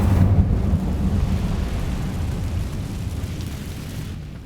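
Incendio fire spell cast in Hogwarts Legacy, a loud, rumbling burst of flame that swells at once and roars steadily for several seconds before fading slightly.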